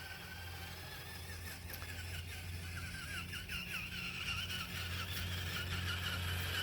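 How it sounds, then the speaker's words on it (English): Small electric Tamiya CC-01 Mitsubishi Pajero RC car driving across a lawn, a steady faint motor whine with scuffing tire noise, continuous and fairly distant throughout with no voices. "Definitely not the most exciting vehicle to watch driving around the lawn."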